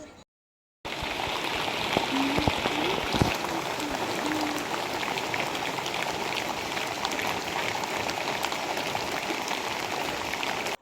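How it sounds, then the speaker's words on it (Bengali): Steady, moderate rain hisses without pause, a dense even patter of drops that holds at the same level throughout. "তো আপনারা বুঝতেই পারতেছেন যে বৃষ্টিটা কীরকম পড়তেছিল"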